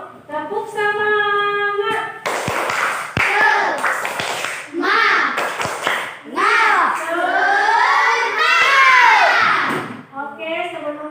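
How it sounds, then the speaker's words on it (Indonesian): A class of Indonesian schoolchildren performs a rhythmic spirit clap before going home, loud patterned bursts of hand claps mixed with the children chanting and shouting in unison. "semua tepuk semangat dulu. Tepuk semangat."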